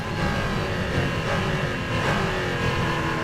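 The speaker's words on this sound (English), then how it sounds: "Casual fun Le Mans prototype lap on the Nürburgring." A Le Mans prototype race car lapping the Nürburgring in a racing video game, a loud, continuous high-revving engine roar that holds steady without a break.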